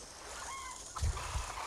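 A bird call in the video game Resident Evil Outbreak, Wild Things scenario, a faint, brief honking cry over a steady background hum, followed by a couple of soft low thumps.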